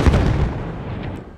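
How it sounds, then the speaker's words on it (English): A grenade explodes in the war video game Battlefield 1, one heavy, loud boom with a deep low rumble that decays over about a second, no talking. "Heads off, grenade out!"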